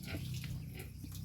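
A pig gives a brief, faint grunting snort, close by, lasting only about a second.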